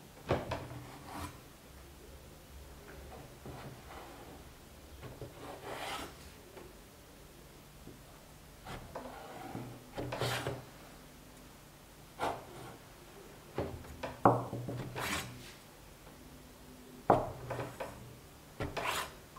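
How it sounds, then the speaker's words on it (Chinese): Knife slicing a thin rolled sheet of wheat dough, about 2 mm thick, into wide strips for fried dough sticks: a series of separate scraping cuts, close and fairly quiet, spaced irregularly with faint rustling between them. "切成宽度大约为3-4厘米左右的宽条"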